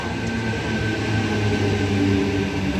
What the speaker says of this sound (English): Now arriving on the platform 4 Cronulla service.